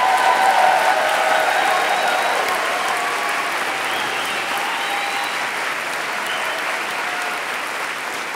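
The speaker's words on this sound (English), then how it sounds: "let's give them a round of applause" A crowd at a People's Climate Rally in Kansas City applauds the organizers with dense, sustained clapping that fades slightly toward the end.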